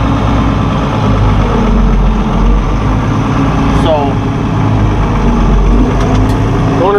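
Tractor engine idling outdoors on a farm, a loud, steady low diesel rumble throughout, close by, with someone talking over it.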